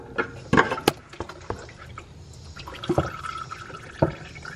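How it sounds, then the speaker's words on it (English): Motor oil drains from a 2004-2008 Acura TL into a drain pan, making close, irregular splashes and drips with a few sharp clicks between quieter stretches of liquid. "Reposition your oil drop pan because the oil will start pouring up out of here."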